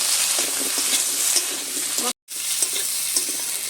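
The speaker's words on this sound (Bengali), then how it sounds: "মশলার সাথে কচুটাকে নেড়ে চেড়ে নিয়েছি" Turmeric-coated taro is stirred and fried with spices in a pan, giving a loud, close sizzle with rhythmic scraping of the spoon, broken by one abrupt moment of silence midway.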